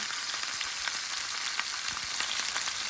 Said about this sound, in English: this is where we're going to sear the short ribs